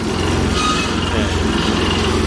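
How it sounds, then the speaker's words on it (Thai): A small Robin 7-horsepower four-stroke petrol engine on a four-wheel-drive farm truck runs steadily up close, a constant buzzing drone with a low throbbing pulse throughout. "เครื่องยนต์เบนซิน4จังหวะเครื่องประมาณ 7 แรง"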